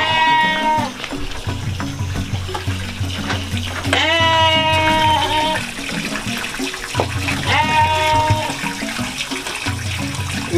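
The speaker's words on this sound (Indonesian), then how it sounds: "Kandang kambing ya, jadi kok agak-agak sedikit berisik" Goats in a nearby pen bleat twice in long, wavering calls, with a steady low hum and some running water or splashing beneath them.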